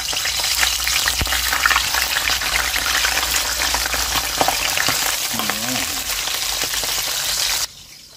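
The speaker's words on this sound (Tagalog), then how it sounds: "umpisahan po natin sa pagpiprito ng ating mga daing" Constant loud sizzle of dried fish frying in hot oil, with occasional stirring clinks and a brief voice underneath.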